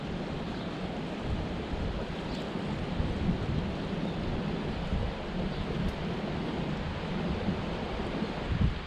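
Steady wind rushes past outdoors while fishing for bait, a broad continuous roar with buffeting against the microphone and no talking.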